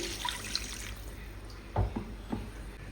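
Broth poured into a pan of cooking vegetables, a faint, quiet liquid trickle with a few soft splashes and drips over a low kitchen background.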